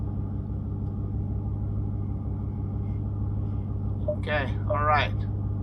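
A Dodge Hellcat idles in eco mode with a steady, deep, even rumble throughout, and a person speaks briefly near the end.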